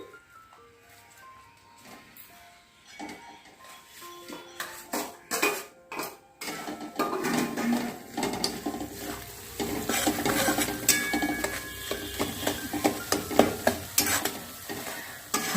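Mawa being stirred into a thick adadiya mixture of jaggery and spices in a pan, with scraping spoon strokes, metallic clinks against the pan and a low frying sizzle, sparse at first then busier and louder.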